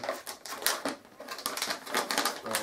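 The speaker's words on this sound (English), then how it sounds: "This bag is a resealable bag, a little bit difficult to get into" A stiff resealable plastic bag is pulled and prised open, giving a run of close, loud crinkling and crackling bursts with brief pauses between them and no talking.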